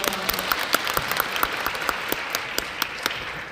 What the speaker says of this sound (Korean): 우리 박수와 함께 들려드리겠습니다